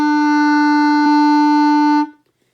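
A single sustained reedy clarinet note, mi, held steadily for about two seconds, then cut off cleanly into silence.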